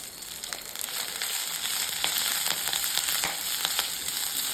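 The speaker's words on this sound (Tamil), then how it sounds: "இப்போ 1 கைப்பிடி அளவுக்கு முருங்கைக்கீரையை பறித்து க்ளீன் பண்ணியிருக்கிறத சேர்த்து வதக்கிக்கலாம்" Drumstick leaves and dried red chilies sautéing in a hot pan, a bright crackling sizzle dotted with sharp pops and ticks, steady and close with no talking.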